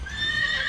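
A horse from a wild Challis herd of mixed draft and pony blood lets out a short, shrill whinny, close and clear, with a faint hoof shuffle beneath.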